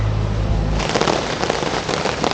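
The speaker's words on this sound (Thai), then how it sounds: "ฝนตกนะคะตอนนี้" Steady rain falls outdoors at a campsite, a dense, even hiss of drops with crackling patter on a tarp or surface, following a brief low rumble at the start.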